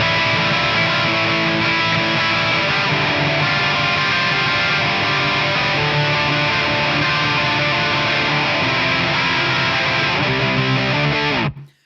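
Distorted electric guitar part from a song, loud and sustained with steady chord playing for about eleven seconds before cutting off abruptly.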